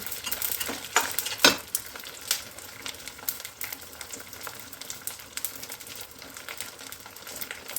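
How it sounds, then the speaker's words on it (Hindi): Powdered gond, an edible gum, frying in ghee for laddoos, a continuous crackling sizzle with frequent sharp spoon scrapes and taps against the pan. "जब आप गोंद को इस तरह से पाउडर बना के फ्राई करते हैं तो ये क्या दांतों में चिपकता नहीं है और अच्छे से फ्राई हो जाता है।"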